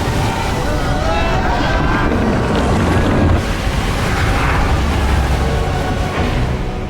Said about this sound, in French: notre équipage se retrouve face à une immense cascade